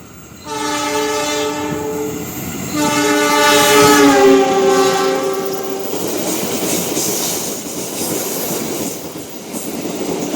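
A loud train horn blares in two long sustained blasts as the Lodaya night train departs Jeruk Legi station in Indonesia, then fades into rumbling rail noise and rhythmic wheel clatter as the train rolls along.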